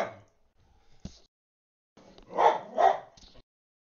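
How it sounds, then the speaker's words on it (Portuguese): A neighbour's dog next door gives two quick muffled barks in the middle distance, after a few faint scattered sounds, with quiet around them. "Cachorro latindo aqui do lado."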